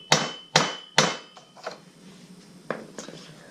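A hammer drives a new seal into the bottom end of a 1991 Lawn Boy L21ZSNC engine with a seal tool: three loud, sharp metallic strikes in quick succession, then several lighter, scattered taps.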